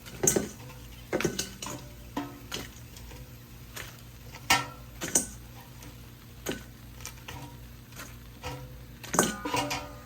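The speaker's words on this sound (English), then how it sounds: "We're gonna toss it in this steel bowl to get ready to get tossed in the sauce" Cooked chicken wings for jerk honey garlic wings tossed into a steel bowl, giving scattered clinks and soft metallic taps in an irregular rhythm, fairly quiet and close with no voices.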